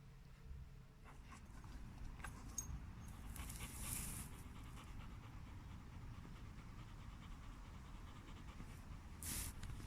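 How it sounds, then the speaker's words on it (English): Dogs pant quietly while playing outdoors, a faint continuous breathy panting with a few brief higher sounds. "I'll leave you with some funny videos of my dogs, because they're having a great time"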